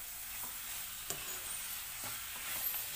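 Sugar being stirred into carrot halwa in a pan for gajar ka halwa, an Indian dessert: a soft, steady scraping and sizzle with light spoon taps, one sharper knock near the middle, no voices.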